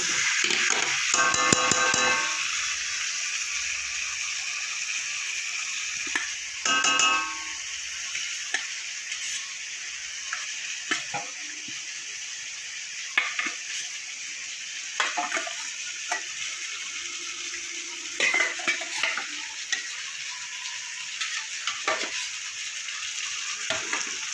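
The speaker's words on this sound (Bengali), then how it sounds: "লাউটা দিয়ে আমি ভালো করে একটু কষিয়ে নিয়েছি। এবার দেবো ভেজে রাখা আলু।" Fried potatoes go into a pan of bottle gourd and are stirred in, giving a bright, steady frying hiss with intermittent clinks and scrapes from the spoon for a gourd-and-egg dish. No one speaks.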